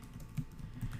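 Keys clacking on a computer keyboard as a date is typed in, a quick run of soft, close taps with a couple of firmer strokes, quiet and without voices.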